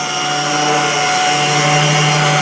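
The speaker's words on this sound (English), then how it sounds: "just keep the sander nice and flat. We're just doing a nice scuff" A power sander held flat scuffs primed MDF before the next primer coat, giving a loud, steady motor whine with a constant buzzing hum and faint abrasive hiss, close up and unbroken, with no voices.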